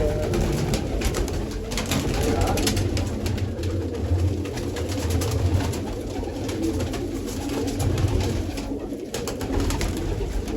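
Kalsira pigeons coo continuously and close by, low rolling calls overlapping in a steady murmur with rustling noise throughout.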